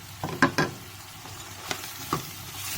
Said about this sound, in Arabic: طبعا هنزل بقى عليها بالبصل